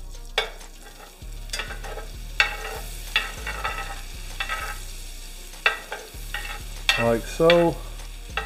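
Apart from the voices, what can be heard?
butter melting and sizzling in oil for gumbo roux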